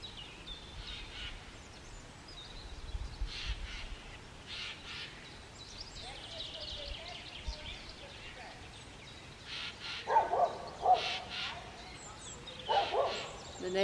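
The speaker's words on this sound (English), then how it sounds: "The neighbours and the dog have now woken up, as well as the crows." Outdoors at dawn, a dog barks and jays call, the calls arriving in scattered harsh bursts that grow louder and more frequent toward the end, with low background noise between them.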